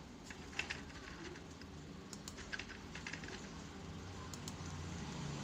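Someone typing on a computer keyboard in a Microsoft Office lesson, sparse, faint key clicks in short clusters over a quiet, steady background hum.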